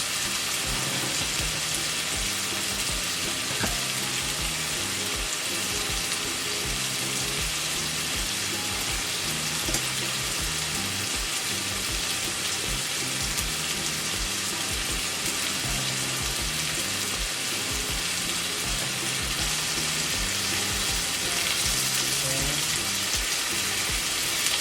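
Loaded fiesta tortilla wraps frying in a pan give off a steady, even sizzle that hisses without break from start to end, with a voice speaking faintly underneath.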